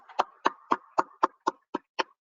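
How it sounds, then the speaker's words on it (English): A lone, fairly quiet round of applause shaped as nine sharp, evenly spaced claps in a quick steady rhythm at a community college program gathering, with no talk over it. "Can we give this person a round of applause"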